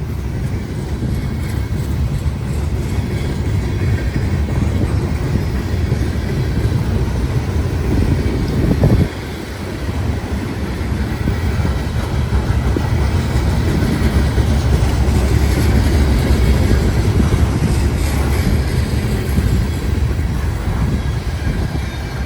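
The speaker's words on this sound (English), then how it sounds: "That was a nice cut of Boxcars there." A fast freight train of boxcars led by four locomotives rolls past nearby, a loud continuous rumble and rattle of wheels on rails that holds steady throughout with a brief dip partway through.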